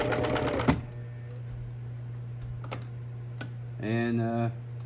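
A sewing machine stitches tough tent fabric while a broken tent zipper is replaced, giving a steady mechanical hum across the clip with a brief louder burst of stitching at the start and a short spoken voice near the end.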